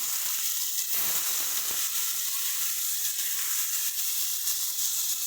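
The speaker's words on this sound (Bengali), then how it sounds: "এবার এই তেলের মধ্যেই আমরা পেঁয়াজ বাটাটা দিয়ে দেবো" Onion paste frying in hot oil gives a continuous bright sizzle and crackle with a few soft stirring knocks, close and steady.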